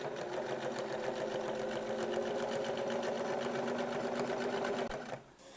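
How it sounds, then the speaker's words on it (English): A sewing machine runs steadily, stitching down the top of a shirt placket with a fast, even mechanical whir and needle chatter, close and loud, then stops abruptly near the end. "Final step, stitch down the top of the placket."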